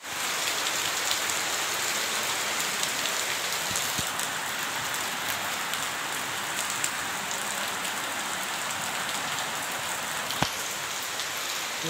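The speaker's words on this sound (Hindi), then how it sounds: "बारिश हो रही है इतनी जोर की" Heavy rain pours steadily and densely at an outdoor market, a constant hiss of drops on surfaces with a couple of faint knocks and no voices.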